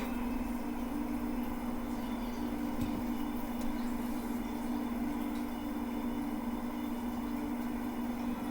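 A rocket engine fires steadily in the Kerbal-style space game, rescuing from the Mun, a constant low droning hum with a strong tonal band, unbroken and moderately quiet for several seconds, no talk over it.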